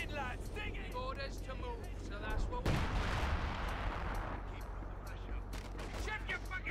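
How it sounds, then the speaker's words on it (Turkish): Mortar fire in the video game Company of Heroes 2: a sudden heavy blast followed by a rumbling, noisy tail amid ongoing battle ambience, under steady talk among players. "Mortara vuruyor."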